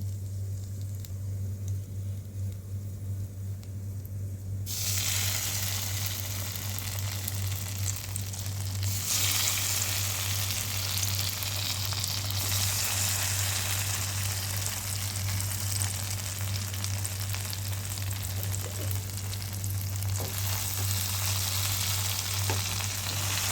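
Pieces of idli fry in masala in a hot pan, making a continuous loud sizzle and crackle as they are tossed, and the frying grows brighter after the first few seconds.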